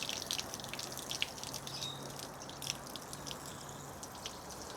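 Water from a hose nozzle sheets and runs over a car body panel during a rinse, a faint steady trickle with scattered dripping and splashing throughout.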